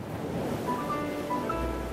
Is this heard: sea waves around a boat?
yes